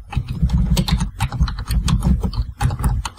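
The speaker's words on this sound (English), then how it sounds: "So I can type that file name here," A file name typed on a computer keyboard, with a quick, close run of uneven key clicks and taps that continues with only brief pauses.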